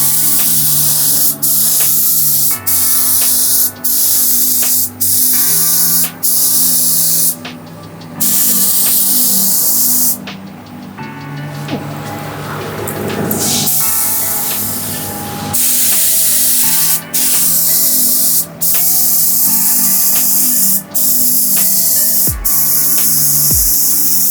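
Steady hissing bursts from a spray gun laying down light coats of candy green paint over a taped crystal pattern, broken by short pauses between passes and a longer softer stretch mid-way.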